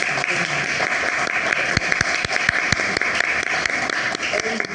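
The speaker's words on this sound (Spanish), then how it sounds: "agradecemos con un fuerte aplauso" Audience applause after a talk on pathology sample collection, steady, dense clapping from a crowd that holds at an even level throughout, with sharper individual claps standing out.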